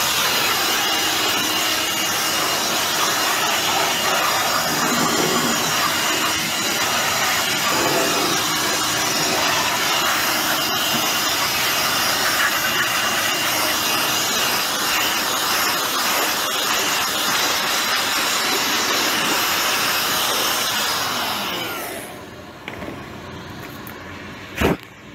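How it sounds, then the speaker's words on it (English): A strong continuous blast of air blows dust out of the bottom and burners of a gas furnace, a loud steady hiss lasting about twenty seconds before cutting off, followed by a few faint knocks. "Let's go ahead and blow those out, blow all this dust out of the bottom, blow it that direction, and we'll blow through the burners."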